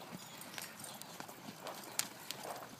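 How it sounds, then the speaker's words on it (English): A small filly's hooves clip-clop in a steady, light rhythm as she works on a longline, with soft, fairly distant hoofbeats over quiet background noise. "This is the little Pepto-Boone small filly"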